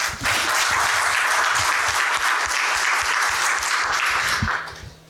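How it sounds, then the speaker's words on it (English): Audience applause at a technical tutorial session, a steady wash of clapping from a room of attendees lasting several seconds before fading out at the end. "How about a big round of applause for Tim?"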